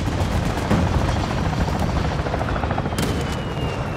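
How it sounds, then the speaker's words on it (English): A chopper gunner helicopter in Call of Duty: Modern Warfare II thrums with dense rotor and engine noise, with gunfire bursts mixed in over a continuous loud wash. "Friendly chopper gunner servicing targets."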